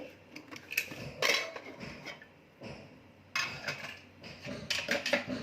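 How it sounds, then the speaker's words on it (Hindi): Metal clinks and clatters as a pressure cooker holding chana dal and bottle gourd is opened after cooking, with scattered knocks of the lid and utensils close by in a quiet kitchen. "कुकर का प्रेशर ख़त्म हो गया है, अब इसे खोलेंगे।"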